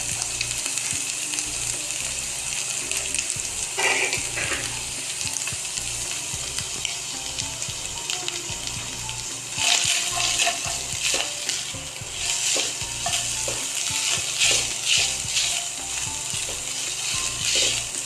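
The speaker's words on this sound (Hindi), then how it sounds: "इसको भी हम 2 मिनट के लिए बस ऐसे फ्राई करेंगे" Chicken macaroni samosa filling sizzles and fries in a pan as turmeric is added, with a steady, close crackle broken by occasional scraping and clinking stirs from a spoon against the pan.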